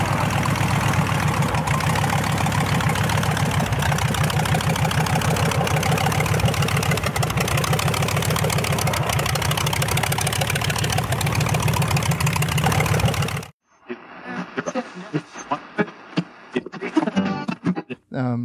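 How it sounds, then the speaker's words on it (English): Polikarpov Po-2 biplane with a five-cylinder Shvetsov radial engine taxiing, its loud, steady low throbbing idle running continuously near the listener, then cutting to quieter, uneven sounds for the last few seconds. "to be able to hear the unique sound of the 5-cylinder Shvestov engine"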